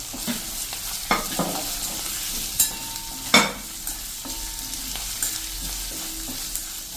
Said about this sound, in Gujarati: આપણે જે આ 1 ઇંચ આદુનો કટકો ગ્રેટ કર્યો છે ને એ પણ નાખી અને આને આપણે મિક્સ કરી લેશું.